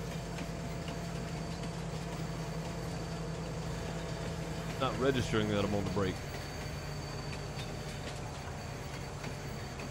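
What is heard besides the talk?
train running, from the video game Farming Simulator 19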